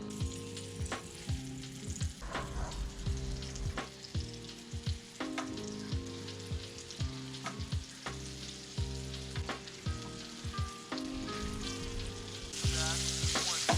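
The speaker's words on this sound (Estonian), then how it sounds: "Ilusti säriseb siin poiss." Fish fries in oil in a pan, with a steady loud sizzle broken by repeated clanks and scrapes of stirring, and no talk over it.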